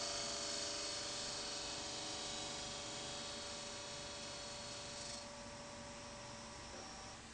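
A wood lathe with an eccentric chuck spins steadily while a shallow cove is turned, giving a continuous mechanical hum and whine that drops slightly in pitch and level near the end.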